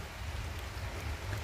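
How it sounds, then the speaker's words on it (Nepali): Light drizzle patters softly during a mountain trek in Nepal, a faint even hiss of fine rain with no voices. "यति यतिको त अलिअलि त सिमसिम पानी पर्नु परिहाल्यो नि"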